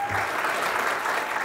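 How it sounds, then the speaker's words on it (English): Audience applause at a town commissioners meeting in Fuquay-Varina honoring local heroes, a dense, even clapping that continues steadily throughout, with a brief voice at the start. "A round of applause for hometown heroes."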